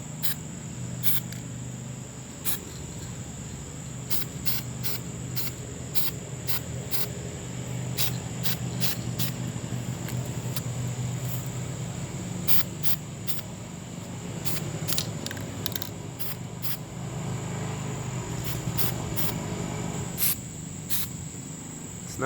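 Steel-It coating sprayed onto an RC tube chassis cage, a steady close hiss running through the whole stretch with scattered sharp clicks and ticks, no talking.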